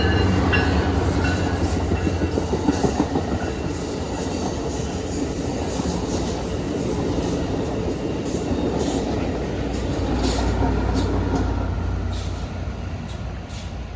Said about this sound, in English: That's a Pacific Surfliner 2119 train there.